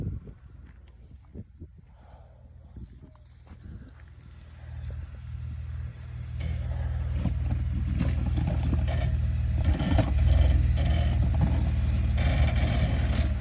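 A Jeep Wrangler crawls off-road over rocks at an off-road park, a deep engine rumble building and growing louder with scraping and crunching over the terrain.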